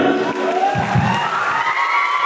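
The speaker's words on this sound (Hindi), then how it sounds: "तालियां हो जाए" A large audience at the Mithila Mahotsav stage show in Madhubani, 2023, roars with continuous applause and cheering, loud and close throughout without a break.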